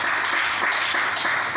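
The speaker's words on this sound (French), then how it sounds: "Est-ce qu'on peut acclamer le Seigneur?" A church congregation claps and cheers in praise of the Lord, a dense, continuous wash of applause filling the room for a brief stretch.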